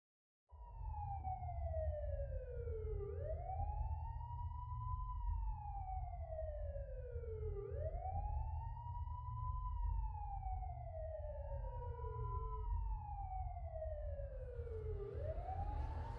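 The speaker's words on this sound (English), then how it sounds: "You can hear the sirens" Emergency sirens wail in long rising and falling sweeps, about three slow cycles, steady and fairly loud over a low rumbling road noise, with no talking.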